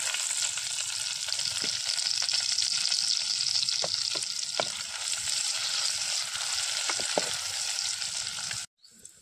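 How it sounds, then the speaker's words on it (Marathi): Chopped onions fry in hot oil for a tempering in a pot, a steady close sizzle with occasional crackles and stirring scrapes, alone without talk, cutting off near the end. "कांदो टाकून घेतो फोडणी."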